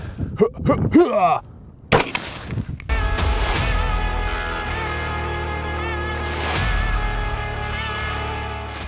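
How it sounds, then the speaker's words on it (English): A shotgun fires a Dragon's Breath round at a tank top: a person speaks, then a sharp, loud blast, followed by a long, close sustained roar and hiss that swells again before fading. "Let's shoot it without gasoline on first, see what happens."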